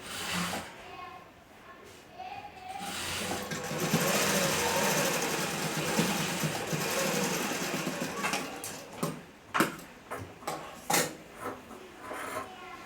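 A sewing machine stitches a kunchigi hood at close range, a soft steady whirring run that breaks into several short sharp bursts near the end, with a voice speaking quietly underneath.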